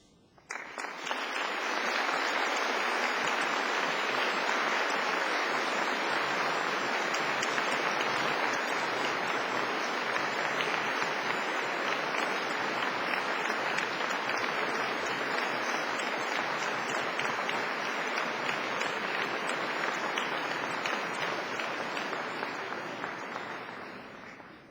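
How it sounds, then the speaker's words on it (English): Graduates at a Cardiff University graduation ceremony give their families and friends a big round of applause, a dense, sustained roar of many hands clapping that swells quickly and holds steady for over twenty seconds with no talking. "giving them all a big round of applause"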